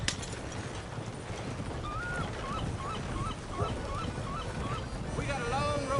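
A horse's hooves clip-clop along a trail in Red Dead Redemption 2, a steady trotting rhythm under ambient game sound, with faint bird-like calls and a voice urging the horse on.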